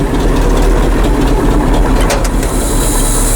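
A Detroit diesel engine in a 27,500 lb crane truck idles with a loud, steady low rumble, close up and unbroken, with a few faint clicks.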